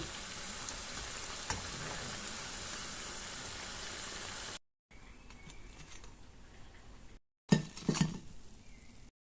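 Sabudana fritters frying in hot oil: a steady, dense sizzle fills the first half, then quieter frying resumes after a cut, with clinks and stirring noises toward the end.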